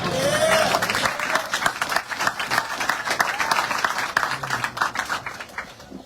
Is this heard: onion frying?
no